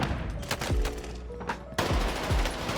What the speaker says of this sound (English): I take another angle and get a couple shots in